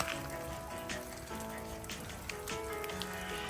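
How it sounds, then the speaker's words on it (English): Rain falls steadily over a garden, a soft continuous patter and hiss at low level, heard alone without talk. "I love it when it rains."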